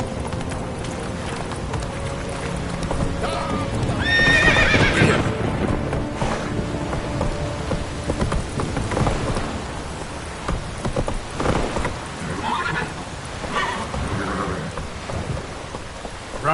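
Roach the horse runs through a stormy Witcher 3 landscape, pounding hooves and a whinny near the start set against heavy rain and rumbling thunder, loud and continuous with no talking.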